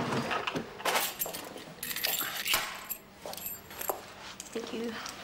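A set of office keys jangles and clinks repeatedly at close range, mixed in with people talking in an indoor scene.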